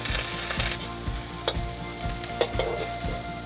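A tablespoon of Chinese cooking wine hits a hot pan of browning crispy chili beef and sizzles loudly and steadily, with rhythmic stirring scrapes and a couple of sharp clinks up close.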